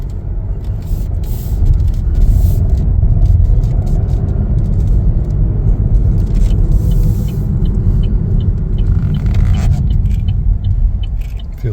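A 2024 Chevrolet Trax RS on a test drive, heard from inside the cabin as a steady loud low road and engine rumble with tire roar, no voices.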